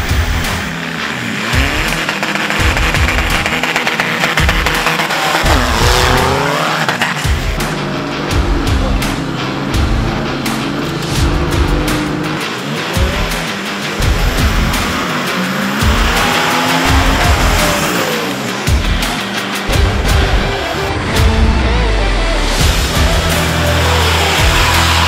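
Off-road vehicles and motorcycles ride through a mountain forest near Srbac, engines revving and droning loudly and continuously with rising and falling pitch, close by, over a dense, noisy background.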